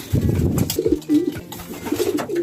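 Low, throaty racing pigeon coos repeat in soft rolling phrases, close by, with a few brief higher bird sounds mixed in.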